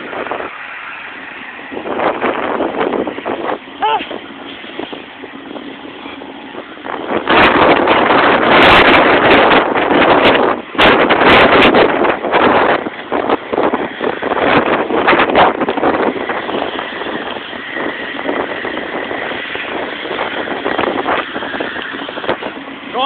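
Strong wind roars and buffets the microphone while riding a bicycle alongside a train, a continuous rushing noise that swells louder midway and stays heavy throughout.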